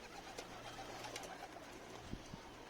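Pigeons from a coop coo faintly and softly in the background, a low murmuring burble with a couple of light knocks or wing flutters near the end.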